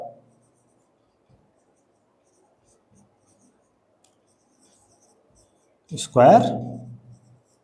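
Pen writing on paper during a maths lesson on the perimeter of a square, faint and scratchy through near-silence, followed near the end by a brief burst of a voice.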